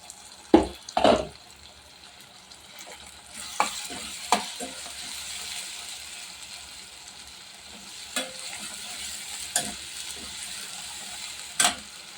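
Tomatoes cook with fried ginger-garlic paste in a covered pan for mutton curry, a soft, steady hiss broken by a few sharp knocks and clinks of the lid or spoon, some near and loud.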